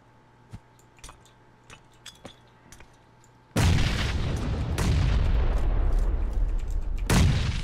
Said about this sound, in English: I'm gonna nade through that hole there.